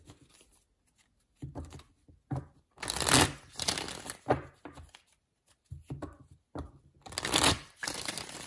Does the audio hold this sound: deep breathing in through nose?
no